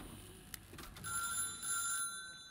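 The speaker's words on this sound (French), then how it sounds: "Ça téléphone." A telephone rings in the factory-management video game Little Big Workshop, a bright electronic trill repeating over a soft background bed, clear and close with no talking.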